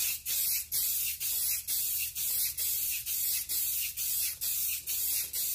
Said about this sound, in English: This is just me spraying and rolling.